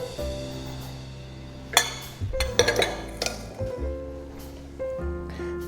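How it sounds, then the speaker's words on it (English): Pasta being stirred into a hot pan for orange pasta, with a few sharp clinks of a utensil against the pan and soft wet squishing over a steady background hum, close and moderately loud. "mix both of these back into our hot pan"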